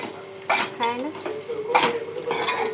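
Tempered rice being mixed in a metal pan, close scraping and clinking of a spoon in irregular strokes over a faint sizzle, with a voice briefly audible underneath.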